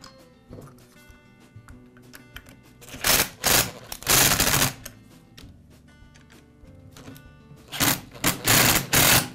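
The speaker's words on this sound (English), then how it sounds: "Now I'll install the screws from the side." Screws are driven into the side of a Porter Cable sander's replacement front handle assembly with a power driver, giving short rapid whirring and clicking bursts between quieter handling noises.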